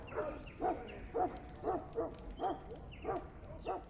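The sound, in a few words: dog barking and whimpering in the video game Dragon Age Origins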